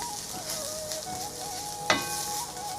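Coriander and turmeric powder sautéing in a pan over a low flame, a continuous close sizzle with a brief sharp clink of a utensil partway through.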